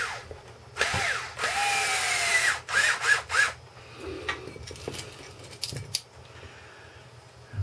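A power drill drives screws into the inner fender wells of an Axial Wraith RC car chassis, with a long whirring burst, several shorter bursts and light clicks of handling between them, close by.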